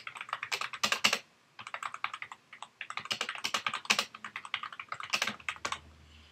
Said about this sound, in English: I'll just type something.